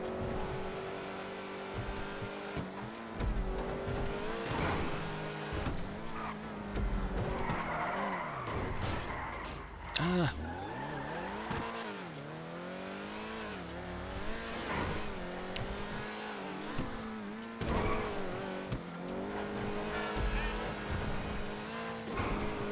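A Grotti Cheetah Classic car in GTA Online skids with long, wavering tire squeals over a loud, steady engine roar, the screech rising and falling continuously throughout.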